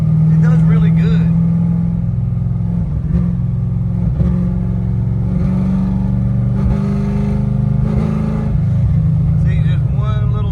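A car with an ACES EFI fuel-injection setup cruises in fourth gear with tall gearing, its engine a steady loud drone that swells slightly at times while someone talks over it from inside.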